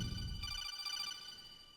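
A cell phone ringtone for incoming calls plays a short bright electronic chime with sustained tones, fairly faint, fading out after about a second with no talk over it.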